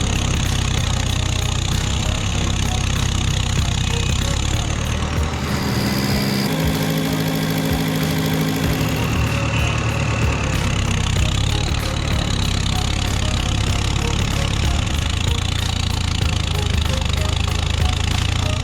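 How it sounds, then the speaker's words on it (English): A Valmet 872 logging truck stuck in mud runs its engine hard, a loud continuous diesel roar and rumble that shifts briefly in pitch midway, close and unbroken throughout. "The driver likely tried to get the Valmet 872 logging monster out of the mud,"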